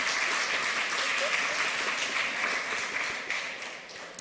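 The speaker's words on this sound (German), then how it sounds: "Ich bitte euch, sie mit einem warmen Applaus zu empfangen." Warm applause from a crowd, a dense, steady clapping that fills the whole stretch and only slightly fades at the end.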